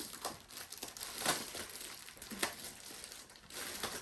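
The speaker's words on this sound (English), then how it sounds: "Let me just remove the plastic" Thin plastic wrapping is peeled and crinkled off a potted Philodendron pastazanum, giving soft, irregular crackling rustles with a few sharper crinkles, close by and steady for several seconds.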